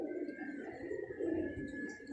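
Teddy breed pigeon cooing in a soft, steady low murmur that runs continuously through the short stretch, close by with no talking.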